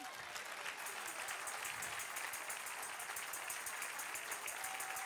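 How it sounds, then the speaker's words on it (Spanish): Church congregation applauds the Lord during a Purim sermon, a sustained, even rush of many hands clapping together, distant and quiet, running unbroken from start to finish. "Al aplauso al Señor"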